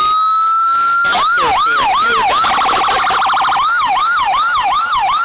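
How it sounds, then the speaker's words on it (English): Loud parade vehicle sirens blare close by at a Fourth of July parade in Hamilton, a steady tone giving way to rapid rising-and-falling wails that overlap and repeat without pause. "we are getting blasted by about every siren imaginable"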